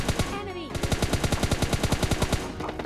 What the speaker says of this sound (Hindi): ऊपर पहाड़ से गोलियां भना भन चली पड़ी थी